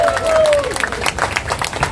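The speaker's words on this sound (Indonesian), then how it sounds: "Kita tepuk tangan sekali lagi." Applause from an audience at an Indonesian political rally of Chinese-Indonesian women supporting Prabowo, a dense crowd clapping mixed with cheering and a brief whistle-like tone, fairly loud and steady.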